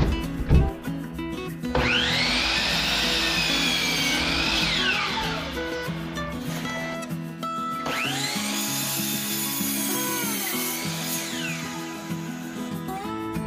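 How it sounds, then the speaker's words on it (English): Two wood framing pieces for a gaming table cut together with a power saw, two long loud whining cuts that rise as the blade enters the wood and drop away as it finishes. "I'm going to cut both these at the same time"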